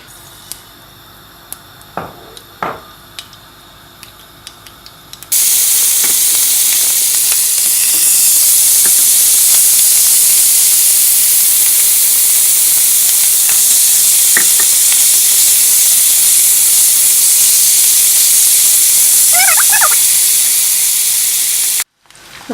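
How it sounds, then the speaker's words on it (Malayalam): Pork roasting in hot oil gives a loud, steady sizzle of fat frying and splattering, with a few scattered pops and stirring clicks over the hiss after a quieter start. "നമ്മൾ പോർക്ക് റോസ്റ്റ് ചെയ്യുന്ന സമയത്ത് നെയ്യ് എണ്ണയ്ക്കകത്ത് കിടന്ന് തിളയ്ക്കുമ്പോൾ ഇത് പൊട്ടിത്തെറിക്കാനിടയുണ്ട്"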